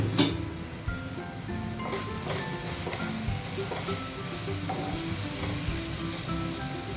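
Asafoetida and ajwain sizzle in hot oil in a pan, giving a steady, close, crackling hiss with occasional light knocks from stirring.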